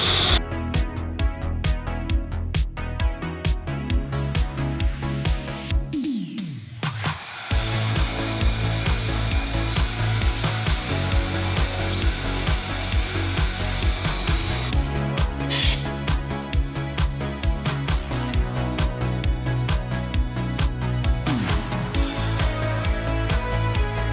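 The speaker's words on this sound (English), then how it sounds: "And we'll also vacuum underneath the seat as well." A vacuum cleaner runs close up inside a Toyota AE86, working under a car seat with a loud steady whine and rasping suction as the nozzle scrapes and shifts, briefly dipping midway.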